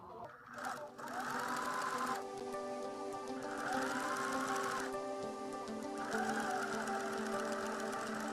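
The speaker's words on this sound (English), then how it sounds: "You will take this now to your sewing machine and sew along the two long" Sewing machine stitching fabric onto webbing for a keychain, running in steady rhythmic bursts with a whirring motor hum and short pauses between runs, close and clear.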